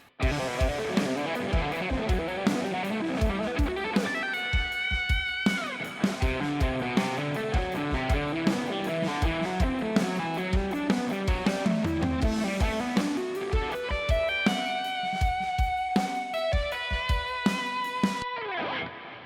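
A distorted electric guitar rips through a fast, flowing legato lick, notes sliding and cascading up and down in a continuous run.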